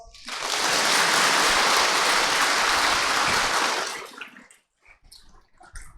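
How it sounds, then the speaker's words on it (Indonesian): An audience applauding at a Buddhist talk, a dense, loud burst of clapping that swells quickly, holds for several seconds, then fades into scattered claps. "give applause"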